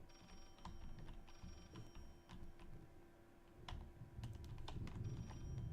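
A telephone ringing inside a video game, faint and intermittent, with sharp clicks and taps scattered over a low background hum.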